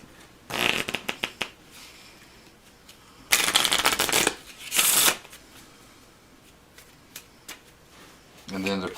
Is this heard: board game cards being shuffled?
yes